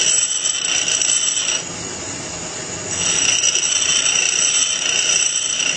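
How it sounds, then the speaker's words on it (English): A drill bit sharpening grinder makes a steady high-pitched grinding whine throughout while grinding a drill bit, dipping briefly in the middle before resuming at full strength; no voices. "Alright, I'm going to start grinding here."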